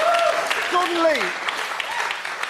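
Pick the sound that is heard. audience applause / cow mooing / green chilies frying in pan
audience applause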